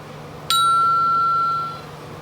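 A single clear electronic ring or ding from a phone sounds sharply once, holding a bright steady tone for about a second before fading, alone in a quiet room.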